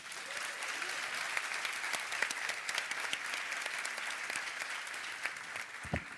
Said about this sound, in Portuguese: Eu queria pedir uma salva de palmas para eles